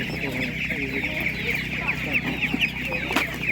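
A flock of chickens clucks and murmurs nonstop nearby at an animal market, with occasional louder squawks rising above a constant high-pitched chirping din.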